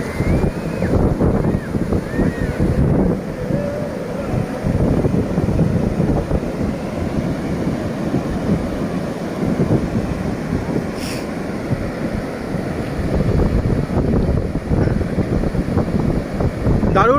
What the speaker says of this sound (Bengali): মোহনায় সমুদ্রের ঢেউটা খুবই ভালো লাগছে, উপভোগ করার মতন।